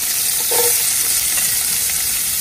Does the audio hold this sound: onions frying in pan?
yes